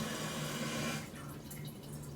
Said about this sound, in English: If you hear right now, water's filling in the tank.